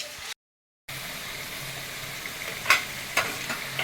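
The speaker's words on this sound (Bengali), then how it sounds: "এবার একটুখানি জাস্ট কষিয়ে নেব।" A spice paste mixed with beaten sour yogurt is sautéed in a pan, making a soft, steady sizzle broken by a short silent gap. Two brief scraping strokes of a spoon come near the end, and no voice is heard.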